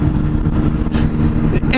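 Car on a California freeway accelerating in fifth gear around 65 mph at roughly 5,000 RPM, a steady mid-pitched engine drone that is loud and close under a brief bit of talk.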